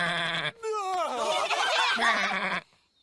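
A cartoon sheep lets out a drawn-out, wavering bleat, loud and close, broken by a short pause and ending in a final bleat before silence, with no other talk.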